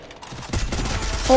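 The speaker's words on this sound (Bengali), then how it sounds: "ফায়ার দিচ্ছে, ও ভাই দুটা গুলি হেডশটে লাগছে" A quick burst of rapid gunfire in the video game Free Fire, the shots rattling close together in a short, loud volley.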